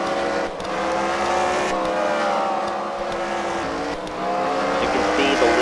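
Race cars run laps at The Freedom Factory during a CWRL Fight Night race, with loud, continuous engine roar and rising, falling whine as the cars pass and accelerate.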